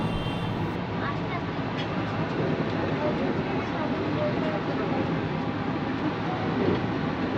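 The Howrah-Patna Vande Bharat Express gives a continuous rumbling roar with faint rhythmic rail clatter, heard from inside the moving train, steady throughout.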